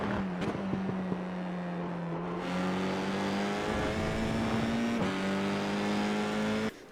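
A race car engine in the iRacing sim at Sonoma Raceway drones loudly and steadily, its pitch rising slightly as throttle is fed in through a corner, then cuts off abruptly.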